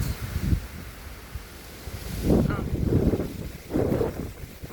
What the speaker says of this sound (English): There's really good wind.